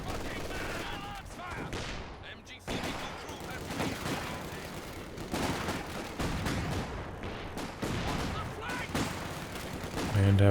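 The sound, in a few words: artillery shells firing in the video game Company of Heroes 2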